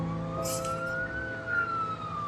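A police siren wails in the distance, its pitch slowly rising and falling over steady low traffic rumble.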